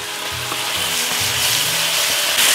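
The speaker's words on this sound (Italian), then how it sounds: "Stiamo sfumando il riso rosso con il vino rosso" Red rice hissing and sizzling loudly in a hot pan as red wine is poured in to deglaze it, a steady dense crackle with stirring, close up and without talk.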